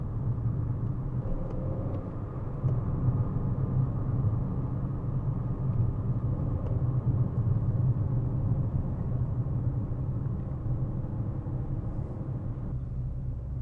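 Race cars circle the Brands Hatch track at an Italian car festival, heard as a steady, moderately distant engine drone and rumble with no talk.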